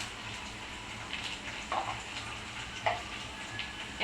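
Ginger paste and spices sauté in a pan, giving a quiet, steady sizzle with a few soft clicks and stirring scrapes scattered through.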